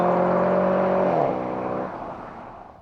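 A Dodge Challenger muscle car engine roars loudly at high revs, its pitch sweeping down as it lets off, then fading away as the car recedes, with no talk over it.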